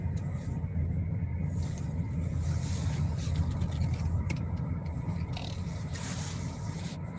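A car slowing and pulling in to park, a low engine rumble with scraping and rolling noise running steadily throughout at moderate distance, no voices.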